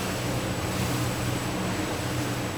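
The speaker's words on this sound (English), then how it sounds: "These water jets will keep us entertained." A Centouno Navi Vespro performance motorboat's water jets make a steady, loud rush of churning water and engine noise, constant throughout with no pauses.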